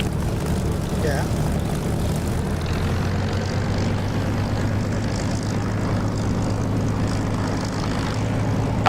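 Steady propeller aircraft engine in DCS flight simulator drones at a constant pitch while taxiing, a low continuous hum with faint background noise and no change in intensity.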